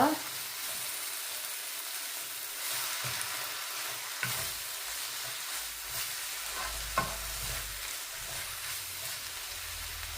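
Onions for Sri Lankan seeni sambal sautéing in a pan over low heat, a steady close sizzle with occasional scrape and stir clicks, no talking.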